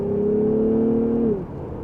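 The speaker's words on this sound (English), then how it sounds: "let's give it one more acceleration, just in the normal setting here" A 2025 Lexus ES350 F Sport accelerates in normal drive mode, giving a steady, smooth engine whine that holds for over a second and then drops off as the pull eases.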